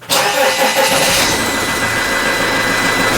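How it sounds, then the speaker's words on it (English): A RAM ProMaster 3.0L van engine in limp home mode cranks briefly, catches, and settles into a loud, steady idle right up close. "So now I'm gonna start the engine."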